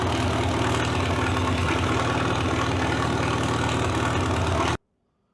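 A 1947 Farmall H tractor engine idles close by with a steady low, even rumble that runs unbroken and loud until it cuts off abruptly near the end.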